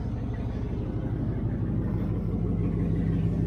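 Ford Galaxie engine idling after a start, fuel line recently replaced, a steady low rumble with even firing pulses, close and continuous, no voices.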